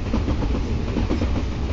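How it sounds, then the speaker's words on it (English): A steam train in the mobile game TrainStation 2 rumbles along with a steady, rhythmic clatter of wheels on rails, loud and close, with no voices. "just a steam train"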